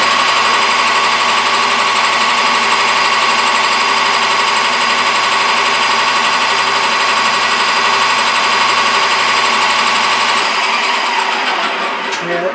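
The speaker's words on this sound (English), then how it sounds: "we're just going to slow the lathe down and put some grooves in it" Lathe slowly turning and cutting grooves into a plastic hammer handle, a loud steady mechanical drone with a constant hum that holds unchanged before cutting off near the end.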